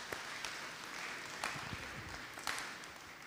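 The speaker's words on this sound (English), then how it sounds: "If we can just give them a round of applause" Audience clapping for conference panelists at a business event, a steady crowd patter with a few sharper bursts, continuing evenly throughout.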